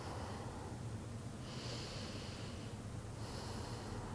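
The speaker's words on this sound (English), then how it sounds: "I'll take 3 long Ujjayi breaths" Long Ujjayi yoga breaths over a constant low hiss: two slow, airy breath sounds, each drawn out for about a second. They are steady and fairly faint, with no talking.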